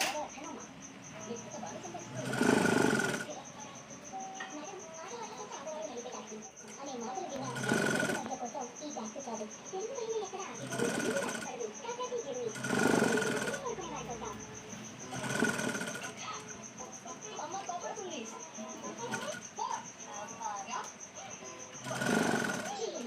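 A sewing machine stitches around the neckline of a blouse in repeated short bursts separated by pauses, about seven runs in all, over a faint steady background hum.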